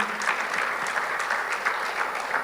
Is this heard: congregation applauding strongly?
yes